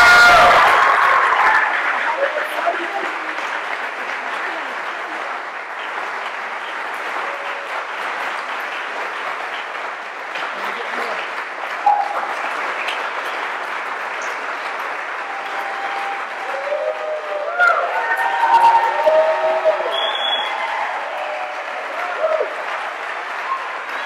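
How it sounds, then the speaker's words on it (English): Audience applause at an academic awards ceremony, a broad, steady wash of clapping from a large crowd that carries on for over twenty seconds with slight swells and a few scattered voices in it. "now you can clap."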